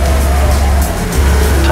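A Cadillac ATS carries speed through a race track section in third gear, its engine a steady loud drone with faint tire noise, heard close from inside the car.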